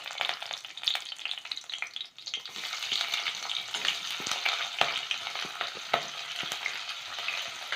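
Green chillies sizzling in hot oil with mustard seeds and urad dal for samba rava upma, a steady bright crackle with brief stirring scrapes, no talking.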